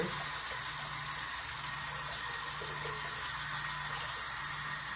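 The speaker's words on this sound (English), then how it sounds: "Again, I'm just putting them in the soapy water." A steady, continuous wash of water as artificial succulents are dipped in soapy water, like a tap filling a sink, with no distinct splashes standing out.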